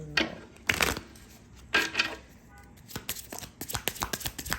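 Karma cards being shuffled up close: two long riffling bursts, then a quicker run of sharp card snaps and taps, with no talking.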